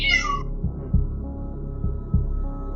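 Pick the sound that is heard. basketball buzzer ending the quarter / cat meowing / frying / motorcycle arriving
cat meowing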